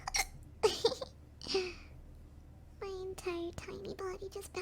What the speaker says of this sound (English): You like the way I hiccup against you?